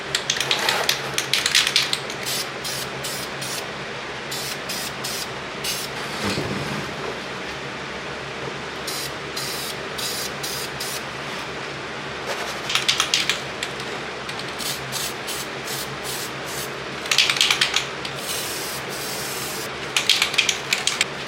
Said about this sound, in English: That hammered gold spray paint can is not working